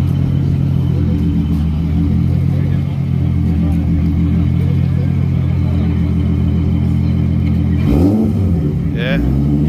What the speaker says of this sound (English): She's gonna go drift it.